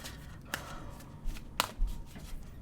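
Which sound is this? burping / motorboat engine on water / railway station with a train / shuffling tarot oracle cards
shuffling tarot oracle cards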